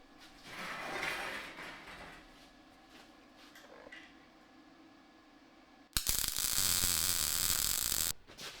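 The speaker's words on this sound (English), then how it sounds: "It's almost a shame to MIG weld such a nice piece" MIG welder laying a bead on a Honda Shadow chopper frame in a home shop: a loud, steady crackling sizzle bursts in and holds for about two seconds, following quieter shop noise and handling sounds.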